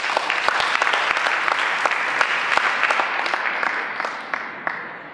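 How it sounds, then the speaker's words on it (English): An audience at a startup pitch day claps in sustained applause, dense and fairly loud, with a few sharper individual claps standing out as it carries on alone. "Round of applause, please."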